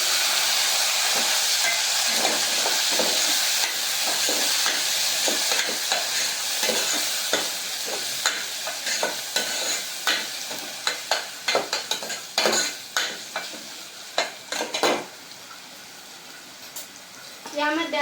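Chopped tomato hits hot oil with browned garlic in a pan, setting off a loud steady sizzle that settles into crackling and spatters while a spoon stirs and scrapes.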